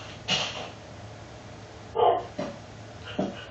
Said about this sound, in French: Ok, il y a un super chien là-haut.